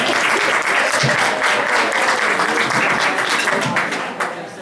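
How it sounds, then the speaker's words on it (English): At a memorial gathering, an audience claps steadily and enthusiastically, sustained applause filling the room before tapering slightly at the end. "Let's give them another round of applause."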